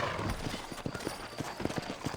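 Horse hooves clip-clopping in the video game Red Dead Redemption, a quick, irregular series of close hoof knocks at a trot over a faint background, with no talk.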